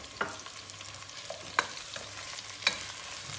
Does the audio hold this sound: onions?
yes